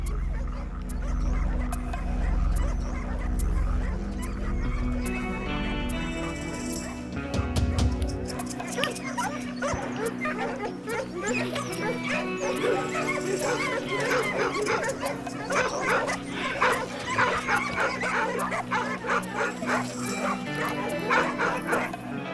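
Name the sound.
pack of hunting dogs barking during wild boar hunt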